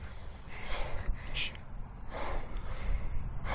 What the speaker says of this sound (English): I want you to hear the breathing